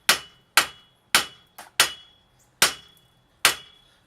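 A sledgehammer taps a tie rod end seated in the steering knuckle of a 2003 Chevy Malibu, seven sharp metallic strikes at uneven intervals, close and loud, one lighter glancing hit among them, with no talking.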